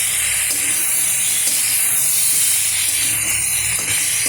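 Strips of taro fry in hot oil in a pan, a loud continuous sizzling hiss that holds steady throughout, close by with no break.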